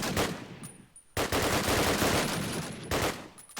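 Dense automatic gunfire rattles in long bursts during a crossfire in the Call of Duty: United Offensive video game. The volleys are loud and close, break off for a moment, then resume.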